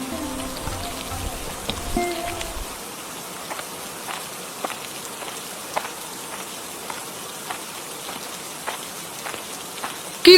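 Rain falls in a cartoon scene, a light steady patter of drops with scattered ticks, fairly soft and continuous.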